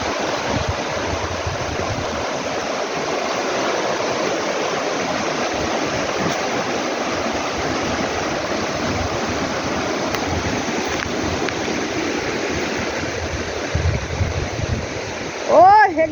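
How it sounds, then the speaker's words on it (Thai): Creek water flows steadily along a stream while people are out gathering vegetables, a continuous broadband rush that stays even throughout, with a brief louder sound near the end. "โอ้น้ำไหลไปเต็ม"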